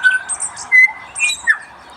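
Tui birds call loudly and close in Te Henui Forest in Taranaki, New Zealand, a run of clear whistled notes, squawks and sliding tones with short gaps and no talking.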